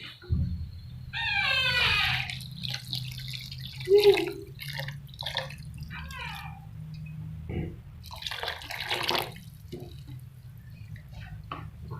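Milk pours into a pan of grated carrots cooked in basmati ghee for gajar ka halwa, giving a soft glugging, dripping trickle in uneven bursts near the microphone, with quiet stretches between and no speech.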